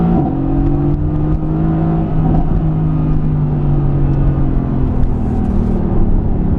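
Mercedes-Benz AMG GT S driven in race mode with an automatic gearbox, its engine droning loudly and steadily from inside the car, the pitch shifting slightly as it accelerates.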